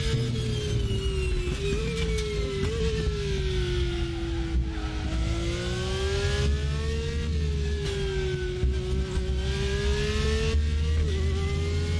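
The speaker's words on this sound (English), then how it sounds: "now we can hear the car a little bit better without all the interference from the other loud GT3 cars" A Porsche GT3 race car engine in RaceRoom Racing Experience drones loudly and steadily, with its pitch climbing and dipping through shifts and throttle changes as it runs alone at close range without pause.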